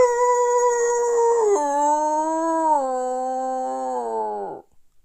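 A person imitates a wolf howl, one long sustained wavering voiced tone that steps down in pitch and fades out near the end, loud and close, with no other talk.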